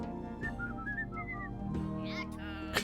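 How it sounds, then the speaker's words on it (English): Villagers in the turn-based village builder Dot Age whistle short, bright tuneful phrases over steady game music, a run of rising notes near the start followed by a quick swooping whistle later on. "I like the way they whistle."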